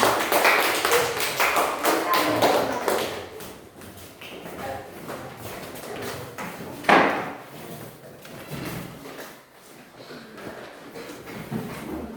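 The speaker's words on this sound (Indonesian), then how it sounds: "Kita berikan tepuk tangan yang meriah untuk kelompok 3" Classroom applause for a student group: a burst of many hands clapping for about three seconds, then a quieter room with a sharp thump, light shuffling and faint voices.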